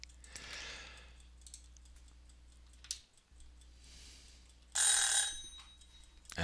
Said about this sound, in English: my tomato timer